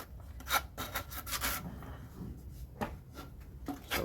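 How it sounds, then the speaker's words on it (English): A small hand sanding pad rubs across the cut wooden ends of DIY kitchen island pieces, giving close, uneven rasping strokes that come in short bursts with brief pauses. "these little ends here, you can just knock off with a little sanding pad"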